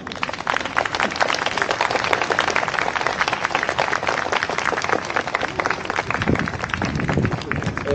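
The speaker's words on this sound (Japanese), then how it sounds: "あの拍手です。" Audience at a student rally in front of Yasuda Auditorium, University of Tokyo, protesting a tuition increase, applauding steadily with dense, continuous clapping and crowd noise throughout.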